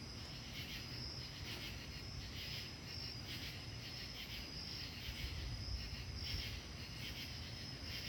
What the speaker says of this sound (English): Listen to those katydids and insects.